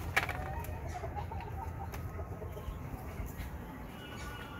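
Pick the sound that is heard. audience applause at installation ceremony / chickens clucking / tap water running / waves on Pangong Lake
chickens clucking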